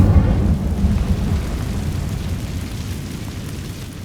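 The Incendio fire spell cast in Hogwarts Legacy erupts as a heavy, rumbling whoosh of flame that starts loud and slowly fades over several seconds, deep and roaring with no talking.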